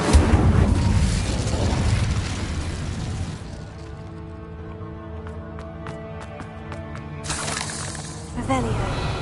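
Incendio fire spell from Hogwarts Legacy: a loud, roaring burst of magical flame opens, fades beneath a steady game music backdrop, then a second fiery whoosh flares near the end.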